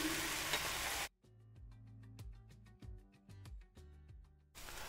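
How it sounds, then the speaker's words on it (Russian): Loud hiss of onions frying in a pan at the start and again at the end, with soft background music in between. "добавляю нарезанный лук и вместе с луком буду обжаривать еще 10 минут"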